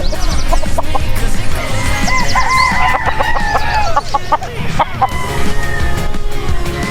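Gamefowl roosters, an Escoline White cross among them, crow and cluck steadily at a backyard game farm. Several birds overlap in a busy, continuous chorus, with near and farther calls mixing together.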